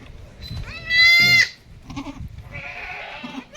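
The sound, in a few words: goat bleating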